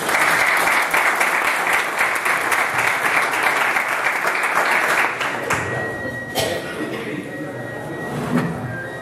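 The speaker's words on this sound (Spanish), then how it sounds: "Un fuerte aplauso para él." Audience applause for a speaker at a conference on the casinos of the province of Huelva, a loud dense burst of clapping for about five seconds that then thins to scattered claps with some murmuring.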